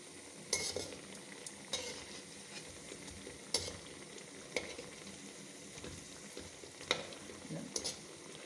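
Parippu vada, Kerala lentil fritters, sizzling in hot oil with a steady, quiet bubbling hiss, broken by occasional sharp clinks of a utensil against the pan.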